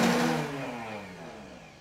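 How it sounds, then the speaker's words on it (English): A blender whirs through thin salad dressing, its motor starting loud and high then winding down and fading over a couple of seconds, close and alone. "That's the sound of magic happening in a blender."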